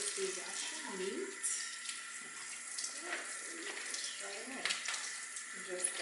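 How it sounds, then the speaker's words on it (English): Cold tap water runs steadily into a sink as raw shrimp are rinsed, a continuous splashing wash with shifting gurgles from the hands moving the shrimp under the stream, close and fairly loud. "We're going to wash off the shrimp here."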